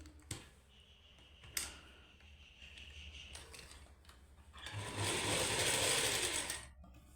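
A domestic sewing machine stitches a seam on lace for a suit's side slit. Scattered mechanical clicks and ticks lead into a louder, steady whirring run of stitching near the end, with no voices.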